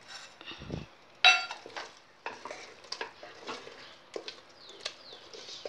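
A spoon stirs cardamom powder into pongal in a pan, with scattered scraping, clinks and stirring noises, fairly close and without talk.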